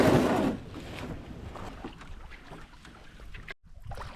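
A canoe pulls up to an island shore in Northern Ontario, with a rush of water and hull scraping at the start, then softer lapping, knocks and rustling nearby.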